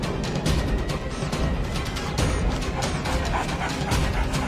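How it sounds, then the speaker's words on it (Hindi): Cartoon dogs bark and whimper in a busy animated village scene after one bites a man's leg, the yips and whines mixed into a dense, noisy crowd background. "ये सारे कुत्ते हट जाएंगे"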